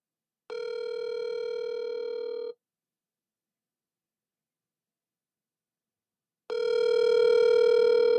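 Ringback on an outgoing telephone call: two steady electronic ring tones, each about two seconds long, separated by a long silent gap, clear and alone.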